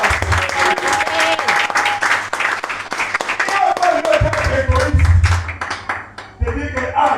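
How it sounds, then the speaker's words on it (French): A church congregation applauds and cheers together, dense sustained clapping with voices rising in a lively crowd, continuing strongly before tapering near the end. "Est-ce qu'on peut acclamer pour le Seigneur?"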